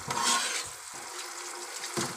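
Hot oil crackles and sizzles quietly in a frying pan just before pompano fish goes in, with soft scattered pops and a faint clink of cookware, no talk.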